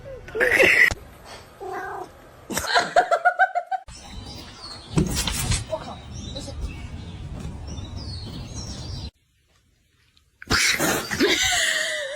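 A kitten meows several times indoors, in short high cries clustered in a rhythmic burst, with some cat-like calls, background rustling and a brief silent gap before a final loud call.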